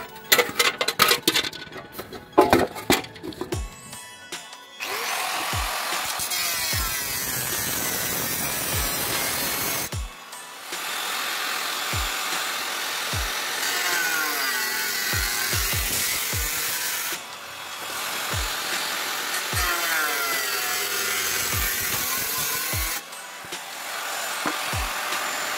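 A power cutting machine slices through a metal bucket being made into a stove, giving long steady grinding runs broken by short pauses and sharp knocks, close and loud with no talking.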